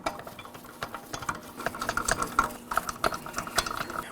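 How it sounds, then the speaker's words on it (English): A hand ratchet spins and clicks while running 21mm lug nuts onto the front wheel of a 2013-2019 Nissan Sentra: rapid, uneven bursts of pawl clicks at close range, with no talking. "We're going to start on all 5 of our 21mm lug nuts. We'll bottom them out."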